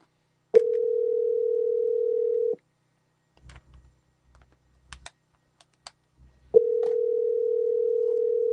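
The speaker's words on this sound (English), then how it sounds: "Let's see if we can get him on the phone" A steady telephone dial tone sounds loud and close, stops, and after a stretch of faint keypad clicks and dialing taps returns for a second steady run while placing a call.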